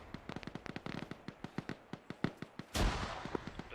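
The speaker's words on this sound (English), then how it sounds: "Frag out, frag out!" A frag grenade in the video game Arma: a rapid run of sharp gunshot cracks leads into one loud booming blast with a noisy tail, heard close with no voices.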